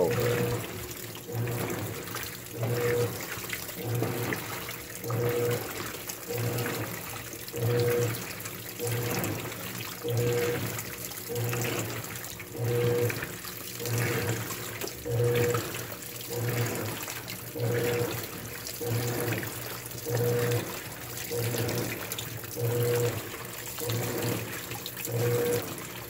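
Water sloshes and runs inside a GE GTW680BSJWS top-load washing machine washing sheets, a steady rushing wash with regular rhythmic surges from the agitation, moderately loud and close, with no talking.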